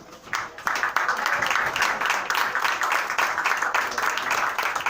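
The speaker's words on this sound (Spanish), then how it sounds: "con un gran aplauso" Audience at a poetry tribute to poet Armando Uribe Arce claps for a fellow poet, a steady, dense patter of hands that swells in quickly and holds at an even level for several seconds without voices.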